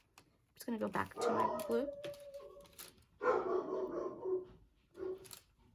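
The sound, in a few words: dog barking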